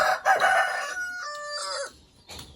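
A rooster crows loudly nearby in one drawn-out cock-a-doodle-doo, followed by softer clucking from hens.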